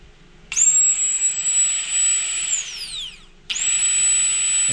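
A worn electric motor with failing brushes whines loudly at high speed, spins down with a falling pitch, then restarts and runs steadily again, close up with no talking.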